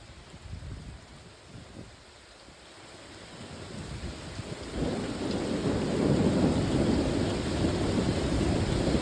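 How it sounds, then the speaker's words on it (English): Thunder from a lightning strike in a severe thunderstorm swells into a deep, sustained rumble that builds and stays loud over heavy rain, heard outdoors and fairly close. "Oh, that was a good lightning strike."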